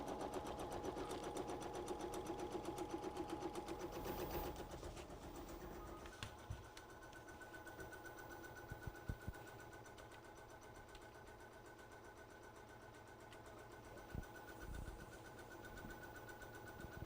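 A sewing machine quilting the fabric of a crossbody bag, a fast, even mechanical chatter at first, then quieter running with occasional clicks and thumps, faint and close without speech.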